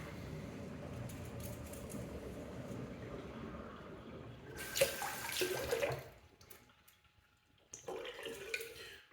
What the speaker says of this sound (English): We're going to let the water run out of the sink.